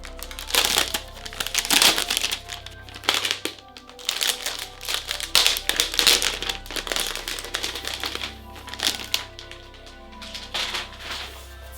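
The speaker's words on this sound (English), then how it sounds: "let's go ahead and open up the laptop unwrap" A Razer Blade 18 laptop being pulled from its packaging gives busy crinkling and rustling of plastic wrap and foam, with dense crackles and snaps that swell and fade in bursts.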